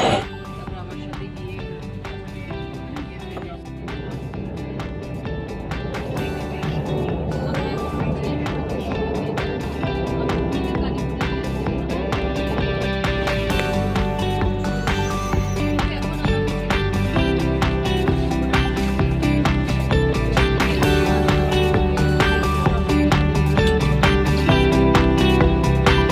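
A metro train arrives at a crowded station, its rumble and whine building steadily from a quieter start to a loud, sustained roar that holds to the end.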